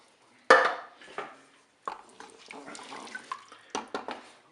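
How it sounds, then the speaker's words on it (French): Canned peeled tomatoes tipped from the tin into a Cookeo multicooker pot with rice and water, a wet plop followed by soft splashing and light clinks of can against the pot's rim. "Là, je vais ajouter ma boîte de tomates pelées."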